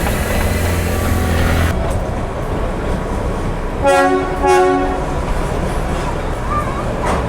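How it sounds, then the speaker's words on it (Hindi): The Darjeeling toy train's steam locomotive gives two loud, sustained horn blasts in quick succession over the steady rumble of the running train on the route from NJP to Darjeeling. "Steam locomotives."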